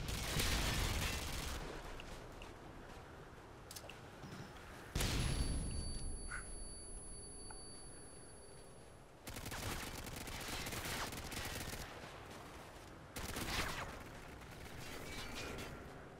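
Call of Duty gameplay carries continuous gunfire: rapid automatic bursts and heavy shots that start and stop in loud sections, with a few sudden sharp cuts between them.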